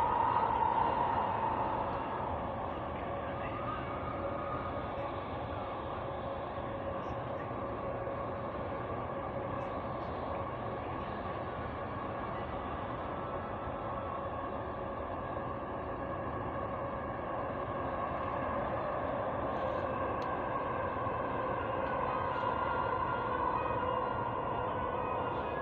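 Dubai Metro train running toward Expo 2020, a steady loud rumble with a sustained hum and rail noise throughout, heard from inside the carriage with no talking.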